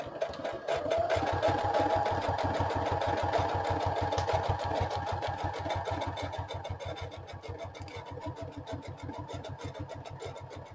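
A sewing machine runs a steady, rapid zigzag stitch to tack down fabric for a notebook cover made from thrifted gift boxes, its even mechanical chatter continuous and close, easing slightly softer toward the end without speech.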